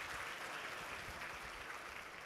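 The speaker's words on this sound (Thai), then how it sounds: "ขอเสียงปรบมือ ให้แชมป์ประเทศไทยนะครับ" Sustained applause from a large audience at a Thailand developer conference, honoring the national Imagine Cup champions; steady dense clapping fills the whole stretch without pause.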